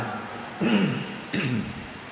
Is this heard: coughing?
yes